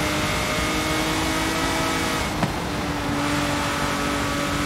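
Car engine roaring hard at full speed in Forza Horizon 5, a Hot Wheels S1 car with big turbo, sustained loud whine with a brief sharp blip midway, no talking.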